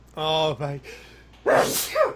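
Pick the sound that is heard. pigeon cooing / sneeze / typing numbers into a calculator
sneeze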